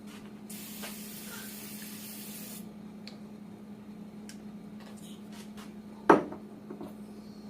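A short burst of cooking oil sprays from a can into a pan in a home kitchen, a bright hiss of about two seconds, followed later by a single sharp clink of cookware.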